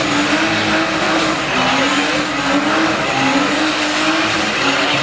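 A BMW roars at sustained high revs during a burnout competition at the Nossebro power meet, its engine loud and constant, with tyre squeal mixed in throughout.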